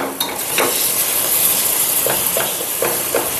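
Tomatoes fry with garam masala and coriander powder in a hot pan, a loud continuous sizzle and hiss broken by several spatula scrapes and stirs.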